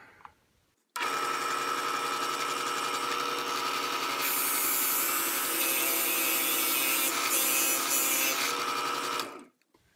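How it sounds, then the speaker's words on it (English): A drill boring into a piece of purpleheart wood for a fidget spinner; steady, loud whining grind that starts abruptly, holds for about eight seconds with a brief pitch change, then stops, with no talking. "drilled it out most of the way, but we don't want this wood to tear out"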